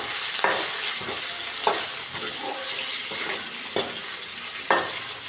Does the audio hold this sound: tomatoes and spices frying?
yes